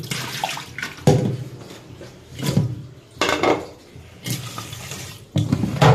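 Lentils and fish being rinsed by hand in a bowl of water, with repeated sloshing splashes and clinks of a pot in bursts, close and fairly loud, no talking.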